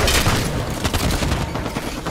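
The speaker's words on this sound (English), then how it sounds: "Watch the enemy fire!" Enemy gunfire in the Halo 5 video game crackles in dense, rapid bursts for about two seconds, loud and close, with booming shots layered throughout.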